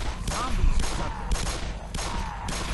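Gunfire in the Black Mesa video game comes as a dense, loud burst of rapid shots with booming low end, running continuously through the moment, with faint voices mixed in.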